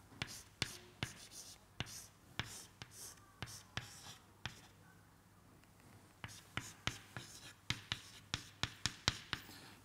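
Pen or chalk strokes while writing out a chemical ring structure during a lecture, a quick run of sharp tapping strokes that pause briefly midway and then resume, close and fairly quiet with no talking.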